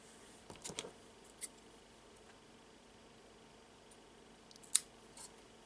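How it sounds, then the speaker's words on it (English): Scissors snipping the ends of leftover macrame cord: a few quiet, sharp clips close by, a quick cluster early on, a single snip after, and a crisper cut near the end, separated by near silence. "I will simply cut the ends of this cord"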